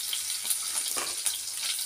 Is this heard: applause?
no